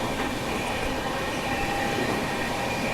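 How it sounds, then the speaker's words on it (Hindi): Vikramshila Express train running through Vindhyachal railway station without stopping, a loud, steady rumble of wheels and carriages heard from on board, continuous and close throughout with no voices. "अभी हम विंध्याचल रेलवे स्टेशन को स्किप कर रहे हैं"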